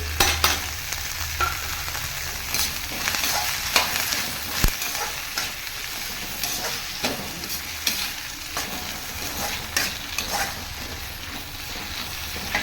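Vathanarayanan leaves sautéing with cumin in a pan for a leaf chutney, with a steady broadband sizzle and repeated scraping stir strokes throughout, close and fairly loud, no talking.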